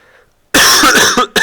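A single harsh cough bursts out close to the mic, followed by a short second catch of breath.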